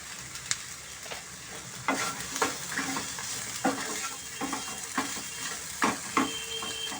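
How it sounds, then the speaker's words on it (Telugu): Sprouted legumes fry gently on a low flame with a little salt, a soft continuous sizzle broken by irregular scraping and tapping as a spoon stirs the pan, close and fairly quiet. "అది లో ఫ్లేమ్లో పెట్టి ఫ్రై చేస్తున్నాను"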